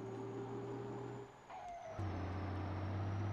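A heavy truck in Grand Truck Simulator labors up a steep quarry hill, a loud steady engine drone that dips briefly with a hiss of air before the engine note drops lower and grows stronger as it keeps climbing.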